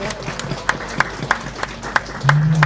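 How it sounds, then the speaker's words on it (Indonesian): Scattered claps at an Indonesian company Halal Bihalal gathering, honoring the event committee: sparse, evenly spaced sharp hand claps, moderately near, with a low hum of room noise and a brief tonal rumble near the end. "tepuk tangan buat panitia ya."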